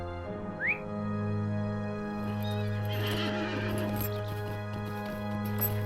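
A horse whinnies briefly and clip-clops along steadily, ridden in the Lord of the Rings Online game, over a sustained low droning background hum.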